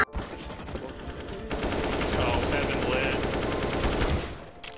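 Rapid automatic gunfire from a video game shootout, a dense sustained burst of shots that builds after a brief quieter start and then cuts off, ending in a headshot kill on a Scythe.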